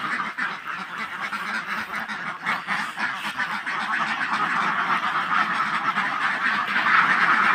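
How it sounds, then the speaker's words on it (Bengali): A large flock of about two hundred farmed ducks quacking and honking continuously, a dense overlapping chorus that grows slightly louder toward the end. "তো হাঁসের এই শব্দগুলো দেখতে শুনতে আমার খুব ভালো লাগতেছে"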